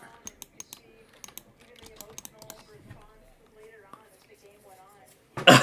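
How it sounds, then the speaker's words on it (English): A child bangs on a Cocomelon toy keyboard, producing sharp clacking hits in irregular bursts with tonal electronic notes, ending in a louder burst of noise; a voice talks nearby. "He's wrecking a Cocomelon keyboard."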